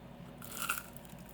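A single crisp crunch as someone bites into crispy fried pork chicharron, a short bright burst near the middle of an otherwise quiet moment, close and fairly soft.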